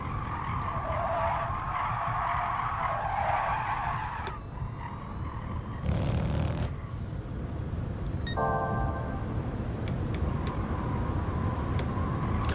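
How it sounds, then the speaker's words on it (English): Tyres squeal under locked brakes on an electric Tesla Model S in the Gran Turismo racing game, in several drawn-out, high-pitched skids with tonal whines between them over a steady hum. "you can very much tell if you've locked the brakes or not"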